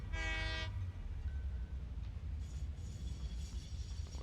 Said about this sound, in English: let me move this train a little bit further along